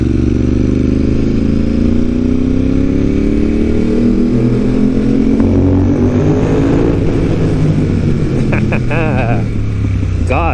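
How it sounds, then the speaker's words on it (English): Ducati V-twin motorcycle with a Termignoni exhaust rumbling loudly and steadily up close while riding along a Japanese road, the engine note rising and falling through gears, with strong wind noise. "Terminioni and Ducati V-twin combination is incredible. Just sounds so good."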